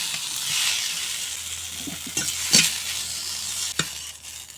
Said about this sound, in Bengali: এখন ভেজে নিচ্ছি কেটে রাখা আলু। হলুদ গুঁড়া আর লবণ দিয়ে আলু ভেজে নেব।